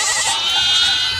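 Baby goat bleating in a TV commercial for debt relief, a sustained, loud, wavering bleat filling the whole moment, with no talk over it.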